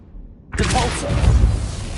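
A Depulso spell cast in the Hogwarts Legacy video game bursts in suddenly after a short quiet gap, giving a dense, booming blast that rumbles on for over a second at close range.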